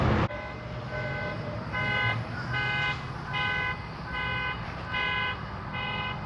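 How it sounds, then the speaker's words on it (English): Several car alarms sound together on a street, a repeating pulsed electronic tone pattern with steady rhythm, moderately loud over traffic background noise. "Multiple car alarms going off back here behind us."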